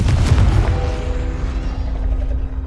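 In the Hogwarts Legacy video game, a spell explodes with a loud, deep boom that rumbles and decays over a couple of seconds, with a faint ringing tone lingering in the tail.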